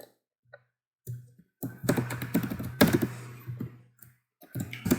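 Rapid bursts of computer keyboard typing while state machine code is written, clustered clicks and thunks with short pauses between, close and fairly quiet with no talking.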